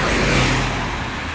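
Small car driving past and turning on a city street in Amsterdam, a steady close engine and tyre rumble that fades slightly as it moves off, with no talk over it.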